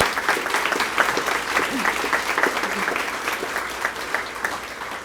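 A round of applause at a college topping-out ceremony, a modest outdoor crowd clapping steadily with a few murmuring voices underneath.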